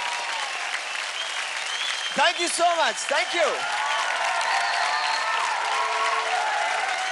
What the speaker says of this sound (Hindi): जोरदार तालियां हो जाए हमारे 5 फाइनलिस्ट के लिए